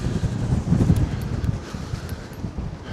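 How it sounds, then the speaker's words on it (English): Gusty wind buffets the microphone atop sheds on a dock on a cold day, a steady low rumble that swells and eases with faint rustling, no voices. "it is cold and windy today"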